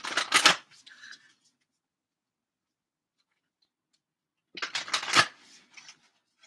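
Oracle cards from the Gateway of Light deck being shuffled in two short riffling bursts separated by a few seconds of silence, close and crisp.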